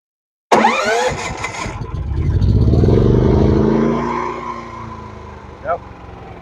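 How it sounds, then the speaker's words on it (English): A Duromax XP9000ih 9000-watt inverter generator running on gasoline fires up with a sudden catch, then settles into a steady, mid-pitched running drone that swells slightly before evening out. "Go ahead and warm up your generator."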